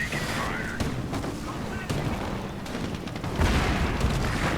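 Tank cannon fire in a World War II real-time strategy game, with a Pershing firing and its shell blowing up the ground, heard as scattered booms and gunfire bursts under continuous talk.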